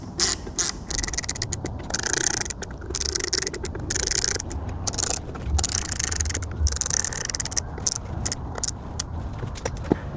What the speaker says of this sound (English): So we'll get that screwed down.